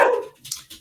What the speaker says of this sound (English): Yes, I apologize for my dogs.